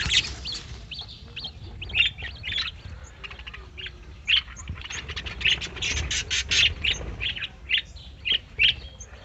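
Pet birds in a breeding colony squawk and chirp in irregular sharp bursts over a low background rumble, fairly close, many calls overlapping, with no one speaking.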